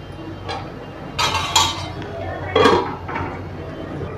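Pot set down for cooking saffron sweet rice (kesari bhaat) in a home kitchen, with a few clinks and knocks of metal cookware and utensils, moderately close, amid faint background noise.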